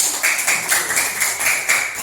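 A class of students clapping their hands together in a classroom, a steady rhythmic run of brisk claps close by, about four beats a second, with no talk over them.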